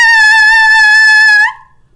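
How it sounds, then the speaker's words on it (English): A reed on a saxophone mouthpiece gives one bright, steady, buzzy tone for about a second and a half, loud and close. It then stops abruptly into silence. "this reed starts to vibrate when I push air"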